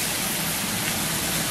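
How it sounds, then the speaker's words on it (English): A kitchen exhaust fan runs with a steady broadband whoosh over salmon frying in a pan, loud and constant throughout. "I gotta get my fan on here."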